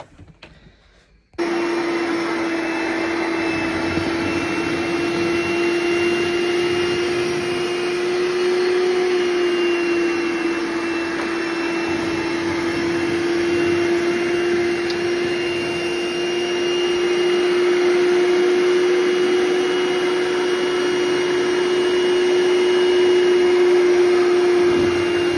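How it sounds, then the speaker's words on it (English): A carpet cleaning machine switches on after a brief quiet moment and runs as a loud, steady whine and whoosh of suction close by, with no talking. "And now we're gonna try to carpet clean."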